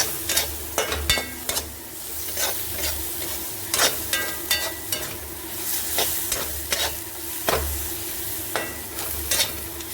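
Spices tempering in hot oil in a pan, before gram flour goes in for besan bhurji, sizzle steadily and loudly, with repeated scraping stirs of a spoon against the pan throughout.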